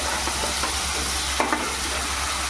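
Ginger-garlic paste cooks in a pan with a steady close sizzle, while a spatula stirs it with a couple of soft scraping strokes.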